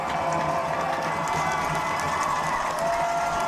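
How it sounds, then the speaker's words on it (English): A crowd at a high school football game between Franklin High and Franklin Road Academy cheers steadily and loudly throughout a third down play, a dense sustained roar with scattered shouts and no clear voice on top. "Crowd making some noise here."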